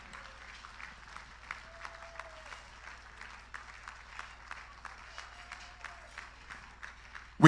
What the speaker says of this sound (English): That round of applause needs to be endless. Come on, don't stop clapping.